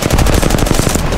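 Rapid, close automatic gunfire from a weapon in Apex Legends, a loud continuous burst of evenly spaced shots with no talking.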